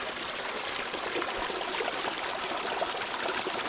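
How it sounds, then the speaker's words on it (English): Small waterfall at Harding Spring in Sedona, Arizona: a steady, close splashing and trickling of water that runs unbroken throughout, with no voices. "Look at that little waterfall."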